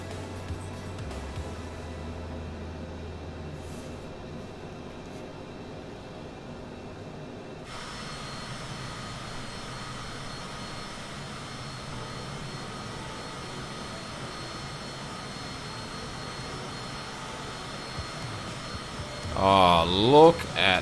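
A business jet's engine hums steadily inside Microsoft Flight Simulator 2020, a continuous turbine drone that shifts in tone partway through, with a brief louder burst near the end.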